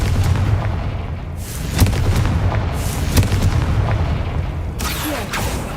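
Booming, blast-like bursts from a spellcasting video game, the fire-blast spell set off more than once, heavy low rumbles with sharp cracks layered over a dense, continuous background of game noise.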